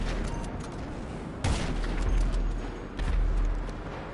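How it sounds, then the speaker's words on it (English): Explosive sniper rifle fire in the video game GTA Online: two heavy, booming shots about a second and a half apart, each with a rumbling tail, over a steady background of distant game noise. "Gotta love explosive snipers."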